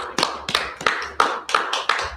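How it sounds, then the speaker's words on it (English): A class of men claps for a speaker in a close, loud, rhythmic pattern of about seven sharp hand claps, evenly spaced and punchy, with no talk over them. "Clap it up for the brother."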